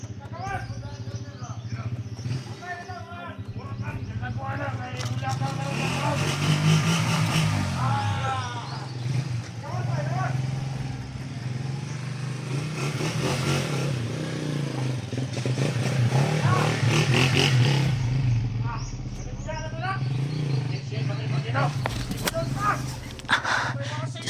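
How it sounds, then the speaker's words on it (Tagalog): A motorcycle engine runs outside a house, a steady low idling hum that continues throughout while people talk over it. "Yung motor na binili ko kay Dudong."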